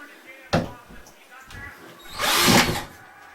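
Power drill driving a screw into a drywall stud during a hole repair, with short bursts of whirring and a longer loud buzz near the end, mixed with nearby talking.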